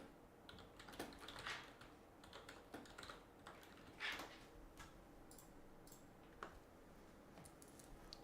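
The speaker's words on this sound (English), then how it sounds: "I'm having to type something quick" Quick typing on a computer keyboard, close but quiet, with irregular light key clicks and a few louder taps over a faint background hum, no speech.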